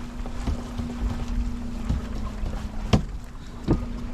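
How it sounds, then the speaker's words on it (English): A sailboat tacks among small islands in a Norwegian fjord, with water rushing and splashing against the hull and steady wind noise buffeting the microphone, plus a few knocks. "And we're now tacking our way."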